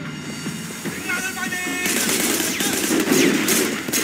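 Gunfire in Sleeping Dogs: rapid bursts of shots rattle out under game music and effects, growing denser and louder in the second half, with no one speaking over them.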